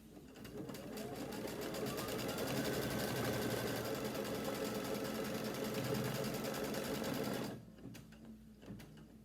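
An embroidery sewing machine stitches down folded fabric on an Anita Goodesign heirloom quilt, running loud and steady with a rapid rhythmic hum for several seconds before stopping, then a few quiet clicks.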